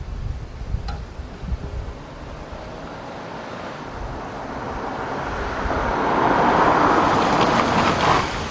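A 2005 Chevy Impala, converted from ABS to non-ABS brakes, drives and brakes hard without skidding. Steady road and engine rumble swells toward the end, with no talk.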